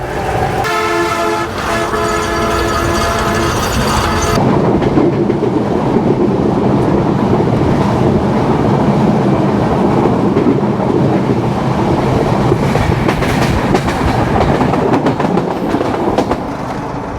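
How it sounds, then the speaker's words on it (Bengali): Drutojan Express passenger train in Bangladesh rolling along the rails, a loud continuous rumble and clatter with a horn toot at the start, steady and close throughout. "আজকে আমাদের ট্রেন হচ্ছে দ্রুতযান"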